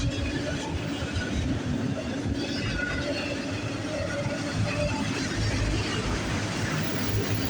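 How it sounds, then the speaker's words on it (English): CN train rolling steadily past Sarnia VIA station, gathering speed as it heads for the tunnel; a continuous loud rumble of cars and wheels fills the whole stretch, close by and without talk. "as the train heads to the tunnel, it picks up speed"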